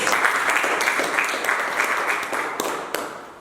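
A church congregation applauds together, a dense continuous clapping that stays loud and even for a few seconds, with a few sharper claps standing out near the end.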